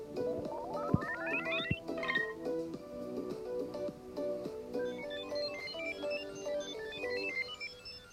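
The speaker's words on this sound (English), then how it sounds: "Hey Miss Jebus, what's happened to your cell phone?" A cell phone ringtone plays a bright, rising melodic tune that repeats and loops for several seconds, clear and moderately loud with no talking over it.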